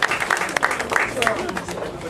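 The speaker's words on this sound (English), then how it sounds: "Let's give everyone a round of applause." A short round of applause from an audience, dense clapping that rises and dips over about two seconds, with voices mixed into the sound.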